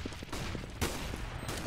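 Gunfire in a Counter-Strike match on de_dust2 between Virtus.pro and Na'Vi, including an AWP sniper rifle: a sharp, loud shot cracks out amid busy, moderately faint in-game battle noise.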